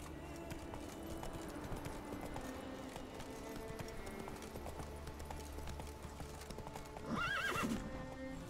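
Roach, Geralt's horse in The Witcher 3, trots with a steady run of hoof clip-clops over quiet game ambience, then lets out a clear whinny near the end.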